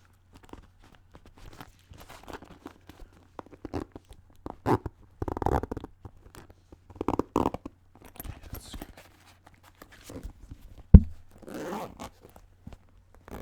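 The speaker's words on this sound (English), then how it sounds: "Zipper on the side there" A zipper on the side of a shoe being drawn in several short rasping pulls, close and fairly loud, with scuffs and handling noises between and one sharp knock near the end.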